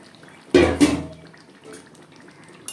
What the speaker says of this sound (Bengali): এখন আমি একটু ঝোল দিয়ে দেব